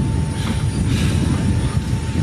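Steady, loud broadband roar of a Russian jet fighter's engine heard from inside the aircraft, a constant dense rumble with a faint high whine, continuous and unbroken with no talk.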